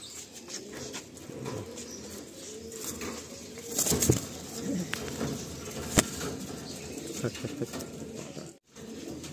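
Giribaj pigeons being released from a loft in Garia, Kolkata: a steady bed of soft cooing with bursts of wing flapping as birds take off, moderately near, no one speaking.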